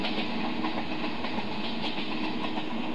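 A train climbs a steep grade at full throttle in Indian Train Simulator, giving a steady rolling rumble with faint rhythmic clickety-clack throughout, even and unbroken with no voice over it.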